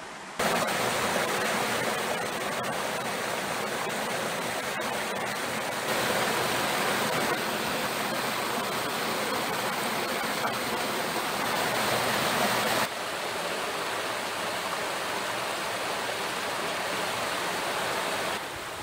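Rushing water from the river by the Vauvise dam flows steadily and loud, a constant broadband roar with no talk over it.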